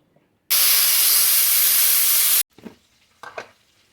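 A pressure cooker with jackfruit curry lets out a loud, steady hiss of steam for about two seconds, then cuts off abruptly, followed by a couple of faint soft knocks.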